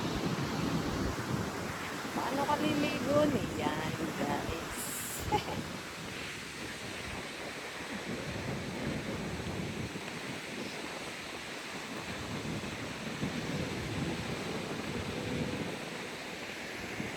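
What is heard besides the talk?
strong wind at the beach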